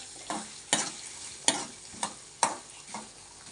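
Cut coconut pieces frying in ghee, a soft continuous sizzle broken by about five regular scraping stirs of a spoon against the pan.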